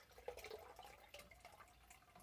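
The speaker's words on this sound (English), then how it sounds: "So now we're going to add some more water." Water is poured into a small planted microfauna ecosystem tank, giving a faint, soft trickling and splashing that continues quietly for a couple of seconds.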